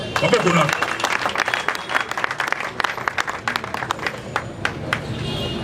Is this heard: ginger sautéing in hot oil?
no